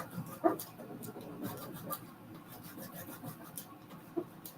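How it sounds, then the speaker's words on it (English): Close, steady rubbing and rasping of sandpaper against a surface in a craft studio, soft repeated strokes with a few louder scrapes, no clear talk over it. "I have a little bit of sandpaper"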